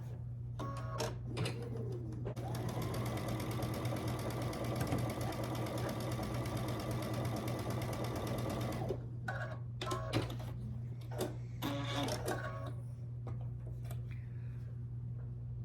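A sewing machine runs steadily for several seconds stitching quilt block pieces together, a close mechanical whirring hum, then stops and gives way to short bursts of handling and shuffling.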